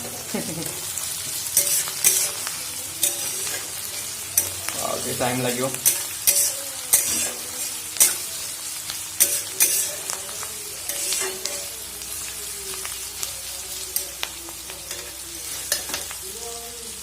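Loud sizzling of onions frying in a pan, with repeated scraping and clinks of stirring; a voice speaks briefly underneath.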